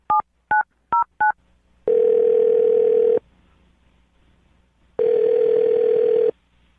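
Four quick touch-tone beeps as a number is dialled on a telephone, followed by two long steady ringback tones separated by a pause, clear and close.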